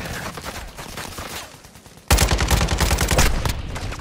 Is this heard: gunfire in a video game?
yes